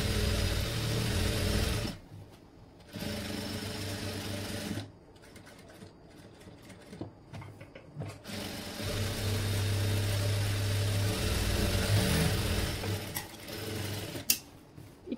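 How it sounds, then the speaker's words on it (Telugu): A sewing machine runs close up, stitching the lining of a boat-neck designer dress in several long, steady whirring runs broken by short stops and handling noises. "ఓకే, ఇప్పుడు నేను ఈ విధంగా పెట్టేసుకొని దీనిపైన స్టిచ్ అయితే వేసేస్తాను."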